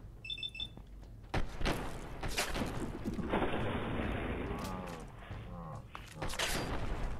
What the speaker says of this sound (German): das war ein guter Schuss